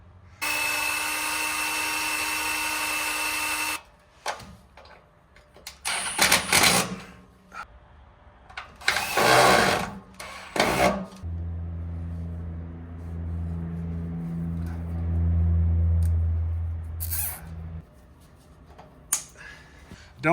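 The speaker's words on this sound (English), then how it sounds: "So I'm just putting some self-tappers in." Self-tapping screws are driven into the rocker area of a 2020 Jeep Wrangler: a steady whir from a power tool opens, followed by several short bursts of driving with clicks and handling clatter, then a lower mechanical hum.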